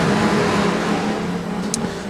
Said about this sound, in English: The green lights come on, they're away.